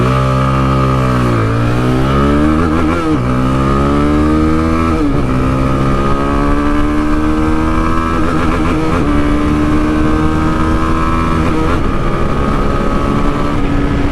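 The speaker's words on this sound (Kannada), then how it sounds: "ಇಲ್ಲಿ ಕೊಡ್ತೀನಿ ನೋಡಿ ಆಕ್ಸಲರೇಷನ್ ಇವಾಗ" A Zontes motorcycle accelerates hard: a loud, close engine roar climbs in pitch, drops at each gear shift, then climbs again, continuing for several gears.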